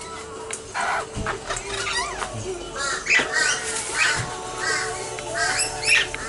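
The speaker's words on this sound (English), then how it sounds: "gotta go and feed our birdies" Several birds call in the morning around feeding time, with crow-like caws and squawking calls repeating over a steady background hum.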